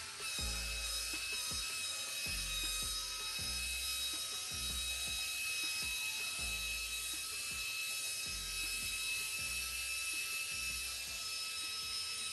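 A DUVOLLE Radiance electric spin brush runs steadily in the shower, giving a continuous high whirring hum with a rhythmic low thumping pulse about once a second, close and unbroken throughout.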